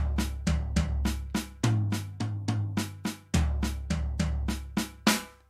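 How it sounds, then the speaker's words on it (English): Paradiddle-diddle fills played on a drum kit, with rapid strokes moving between toms in repeating groups of six and a kick or low tom landing at each group start, close, clear and alone with no talking. "So just paradiddle-diddles here."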